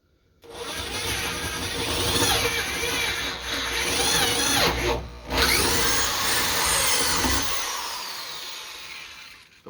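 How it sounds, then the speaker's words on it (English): Power drill boring a pilot hole into wood, a loud sustained grinding whir running for most of the stretch with one brief pause midway, close up and with no talk over it. "Got my hole drilled."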